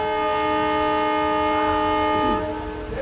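A train pulling out of Nilambur Road station in Kerala sounds a long, steady horn over the low rumble of the engine and carriages, fading slightly at the end.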